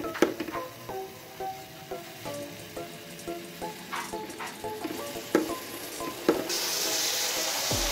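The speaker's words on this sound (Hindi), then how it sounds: "आराम से इसको फ्राई करेंगे अब हम।" Shawarma meat pieces frying over low heat in a pan give a soft, crackling sizzle with scattered pops, partly under a tonal melody, and the sizzle grows louder and denser near the end.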